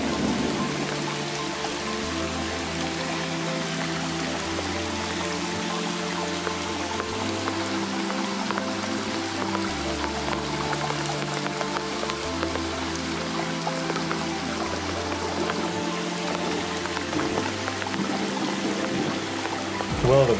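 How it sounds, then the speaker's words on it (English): Rain falls steadily by a creek, a continuous hiss of drops and running water with a faint low rhythmic tone underneath and no voices. "this creek sure can be tranquil, even in the rain"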